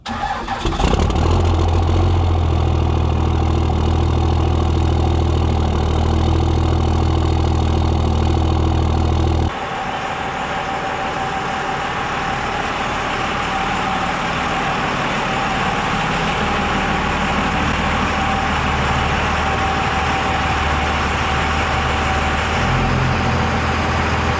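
A 2001 Ram 3500 with a 24-valve Cummins diesel cranks and fires up, then settles into a steady, loud, close idle that runs unbroken with no one talking.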